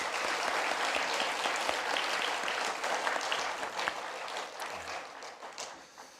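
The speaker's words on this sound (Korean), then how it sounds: "우리 다시 한번 박수하겠습니다" A church congregation at a Korean intergenerational worship service applauds the choir, with dense, steady applause filling the room that thins and softens toward the end.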